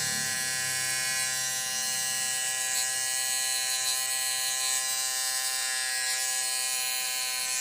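A cheap electric shaver, a budget model, buzzes steadily as it shaves arm hair, a close, continuous high-pitched motor whine with a faint rasp at the start and no pauses.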